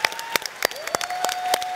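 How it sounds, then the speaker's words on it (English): A live audience applauds guests at a tech event about bringing formerly incarcerated people into the industry; scattered, uneven claps pop close by under a faint high tone, without talk. "Let's give our guests one more round of applause"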